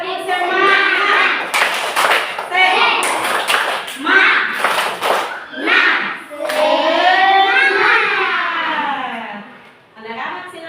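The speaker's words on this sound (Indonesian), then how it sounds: "1, 2, 3. Tepuk semangat." Children in a classroom perform a rhythmic spirit clap, with short bursts of group clapping in a patterned beat mixed with loud children's voices chanting or singing throughout.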